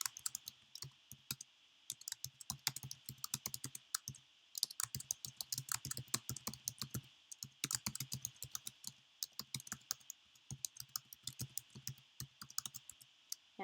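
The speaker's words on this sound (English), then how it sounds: "And I can just type in." A message being typed on a computer keyboard, quick irregular bursts of light key clicks with short pauses between them, close and quiet with no talking.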